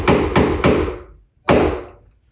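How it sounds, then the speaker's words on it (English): A hammer taps a door hinge pin into place: three quick, sharp metallic strikes in a row, a brief pause, then one more ringing blow, loud and close. "we can give that a tap when we're done with the hammer, Get that fully seated"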